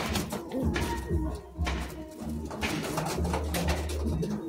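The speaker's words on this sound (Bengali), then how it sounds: "দেখুন এই যে পায়রাগুলো সব দেখালাম" Madrasi pigeons at a home loft coo in repeated low throaty rolls, several birds overlapping close by, steady and fairly loud without speech.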